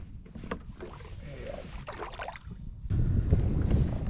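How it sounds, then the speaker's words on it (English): Wind picks up over open water on Vancouver Island during kayak fishing, a loud, close rushing gust buffeting the microphone and growing stronger toward the end, with water sloshing against the kayak. "the wind is starting to really pick up"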